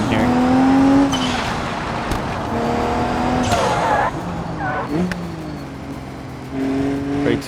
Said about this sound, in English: There's really loud gearing in here.